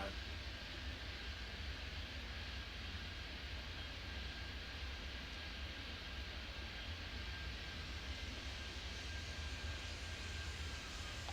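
Jet airliner taking off in the Airport Madness 3D airport game, a steady, even engine roar with a broad hiss that holds unchanged throughout, fairly quiet and with no speech.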